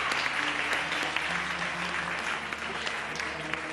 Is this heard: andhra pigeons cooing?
no